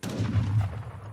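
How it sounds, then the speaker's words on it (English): Cannon fire from a real-time strategy video game match, a deep booming blast with a rumbling tail, heard alone and fairly loud. "2 cannons coming in for Kaiser now"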